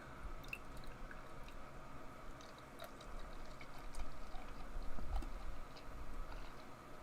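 Beer being poured into a glass, a continuous low fizzing and gurgling rush with small drips and bubbles, close and steady for several seconds without talk.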